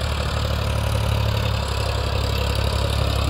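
A Farmtrac 45 tractor, a 45 hp model pulling a 16-disc harrow through sandy field soil, runs with a steady low engine drone and a constant mechanical hum throughout, close and unbroken, with no voices.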